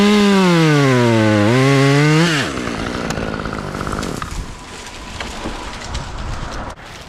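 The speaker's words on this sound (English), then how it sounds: "Running a saw like this, you have no leverage on a cut like this" A chainsaw cuts wood during slash and drop cuts. The engine screams loudly at high revs, its pitch dipping and climbing, then settles into a rougher, noisier drone as the chain bites in.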